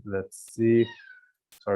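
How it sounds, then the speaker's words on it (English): Domestic cat meowing briefly between bits of nearby talk, a short close meow in the middle of a man's speech. "that's my cat"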